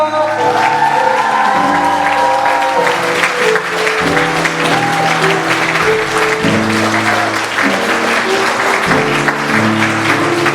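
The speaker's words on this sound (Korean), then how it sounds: "입장 박수와 함성 부탁드립니다." Guests in a wedding hall in Suwon clap loudly and continuously with scattered cheers as the bride enters, while instrumental music plays underneath the steady applause.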